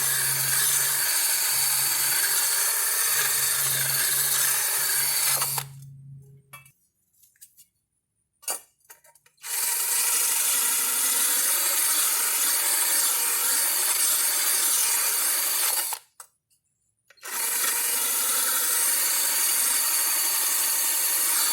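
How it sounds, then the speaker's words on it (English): A lawn mower blade being sharpened, a steady abrasive grinding that runs loud and continuous, broken by two short silent pauses before resuming. "I was able to get the blade sharp on both sides"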